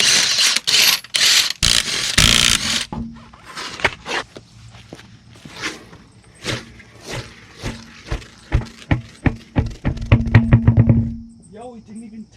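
A socket wrench ratchets in quick bursts of clicks while lug nuts are run on imported JDM STi wheels being fitted to a Subaru WRX, close and crisp among knocks and clanks.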